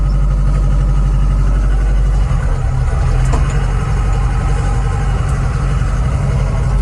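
A KATAI 904 tractor's heavy engine rumbles steadily at close range, its low idle shifting to a rougher, deeper throb partway through.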